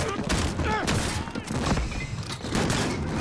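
Rapid gunfire bursts from a Call of Duty Modern Warfare campaign mission, including shotgun blasts, crackle densely over a few seconds alongside game sound effects and faint voice chatter.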